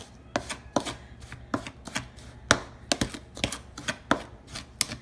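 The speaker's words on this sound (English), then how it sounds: "And that's all you put in there, just sugar and cocoa, and mix it up good." Rapid scraping and clinking of sugar and cocoa being stirred together in a bowl for a chocolate cobbler, with sharp, uneven strokes repeated roughly twice per second, close and crisp.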